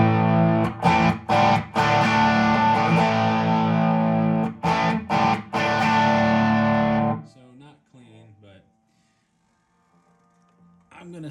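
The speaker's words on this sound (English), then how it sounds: "this is my Les Paul through my amp, which is a Dr. Z prescription" A Les Paul electric guitar played through a Dr. Z Prescription amp and a JHS Notaklön fuzz, loud distorted chords struck in short rhythmic bursts with brief gaps, then cutting to near silence.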